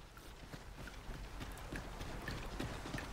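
Hooves of goats trot past on the ground in the fantasy game Dragon's Dogma 2, a quick irregular clatter of light footsteps with a soft ambient backdrop.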